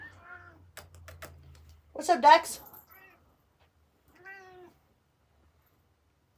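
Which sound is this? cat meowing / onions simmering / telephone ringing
cat meowing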